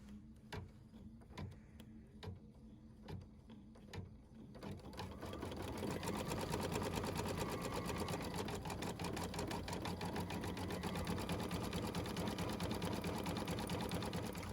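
Embroidery machine sewing a satin stitch: a few isolated ticks at first, then a fast, steady mechanical stitching rattle that builds and runs continuously, close and fairly quiet.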